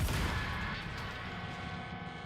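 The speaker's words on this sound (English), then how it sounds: "Enemy artillery intensifying." Enemy artillery fire in Stellar Blade opens with a loud, low blast that fades into a sustained rumbling roar of combat noise at moderate distance, with no talking heard.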